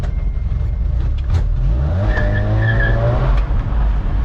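Old Mitsubishi-made Dodge Ram 50 pickup, long abandoned, driving with its engine revving up through a loud rising pitch sweep, close and continuous, with some tire noise.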